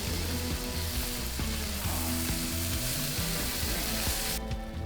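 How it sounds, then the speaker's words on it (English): Sausage patties and potatoes sizzle loudly on a Blackstone griddle, a dense, unbroken frying hiss with faint scraping underneath that cuts off abruptly near the end. "Give the patties a flip. Nice looking sear, gorgeous color on those."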